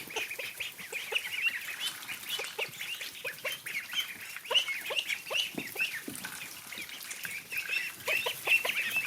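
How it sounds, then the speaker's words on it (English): Several ducks give soft, small quacks and honking calls, a busy overlapping chorus of short repeated notes throughout, close by and moderately loud, with no talking. "Not that big loud, but a little kind of quacking sound."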